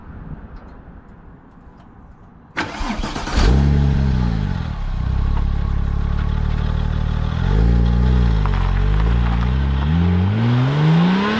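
A 2004 Porsche 911 Turbo (996) engine starts with a sharp burst, then revs up and accelerates through several rising and falling gear sweeps, loud, close and steady, with no talk.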